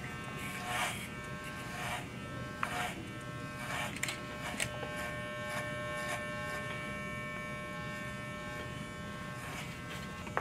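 Electric hair clippers buzz steadily and close by while cutting a man's hair in a basic taper, the drone shifting slightly as the blade moves along the head, with faint rustles throughout.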